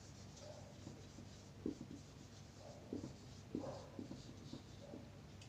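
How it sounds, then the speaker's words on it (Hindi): Pen or marker writing by hand on a board during an English grammar lesson, a faint scratchy scribble with a few short strokes, heard quietly against a steady background hiss. "जैसे मैं लिखती हूँ"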